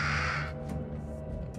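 A crow caws in the horror video game Little Hope, one harsh, raspy call at the start, then a dark, low ambient drone with faint clicks and no speech.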